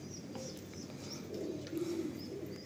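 Pigeons at a loft housing Andhra pigeons give low, soft, steady cooing with faint chirps, moderately close and alone throughout.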